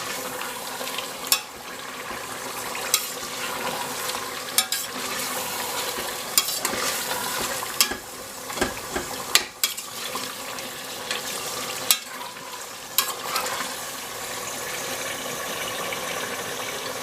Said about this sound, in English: you want to mix all of that in nicely until the tomatoes have cooked all the way through